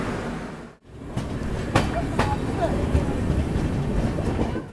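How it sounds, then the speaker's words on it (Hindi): Paschim Superfast Express pulling out of Kurukshetra Junction, heard from inside a 3rd AC coach: a steady, loud broadband rumble of the moving train with a few sharp clicks and brief squeals over it. "तो फाइनली निकल चुकी अपनी ट्रेन"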